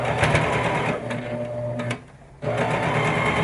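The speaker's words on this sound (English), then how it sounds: "so I'm going to sew back over that just a bit" A sewing machine stitches fabric in a loud, close, continuous whir that dips briefly to near quiet partway through and then starts up again.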